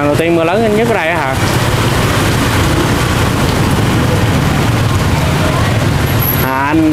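Heavy rain pours down in a steady, loud roar that fills the middle of the clip, with people talking at the start and end.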